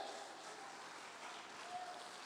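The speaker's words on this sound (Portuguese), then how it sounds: "Bata as palmas para Ele." A church congregation claps hands together at a service, a steady dense wash of applause that is faint and distant, with no voices over it.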